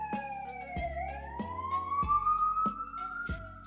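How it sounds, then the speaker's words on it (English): Police siren passing outside, wailing as it rises and falls in pitch, heard through walls at moderate distance, with a rhythmic repeating thump or tick underneath throughout. "Sorry about the sirens."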